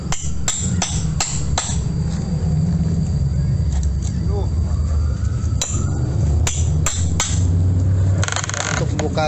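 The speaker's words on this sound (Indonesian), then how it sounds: "Selanjutnya dibutuhkan alat linggis dan palu." Sharp metal hammer strikes against a crowbar pull nails from wooden fence boards, several hits in uneven bursts over a steady low rumble of background noise.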